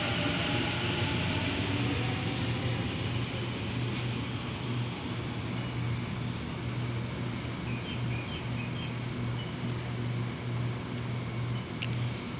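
Suburban passenger train on the Campbelltown service pulling out of platform 4 at Liverpool station, a steady loud rumble of wheels and motors continuing throughout, close by, with no talk.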